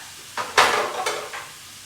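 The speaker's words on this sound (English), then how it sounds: "I'm going to add the rest of this that our fish was sitting in, our marinade, so we get some good, nice sauce." Marinade poured into a hot pan holding seared ahi tuna bursts into a loud sizzle, followed by a couple of shorter hisses and stirring scrapes, close and without talk.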